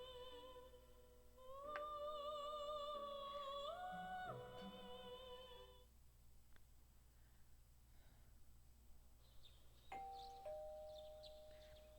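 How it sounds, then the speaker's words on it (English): A doorbell chimes in the Persona 4 Golden video game, a clear two-tone ding-dong repeated twice over a few seconds, then a single softer chime near the end, with quiet background hum between. "You hear the doorbell ringing."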